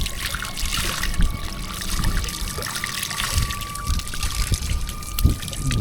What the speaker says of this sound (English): Okay, let's wash my hands.